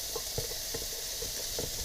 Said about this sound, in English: Chuck those in and give them a little sizzle too.